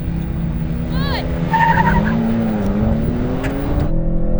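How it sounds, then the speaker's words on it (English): Three performance sedans, an AMG C63 S, a BMW M3 and an Audi RS4, launch together in a drag race, engines roaring loudly with a brief tire squeal as they pull away, while a voice talks over the noise. "Perfect launch from everyone."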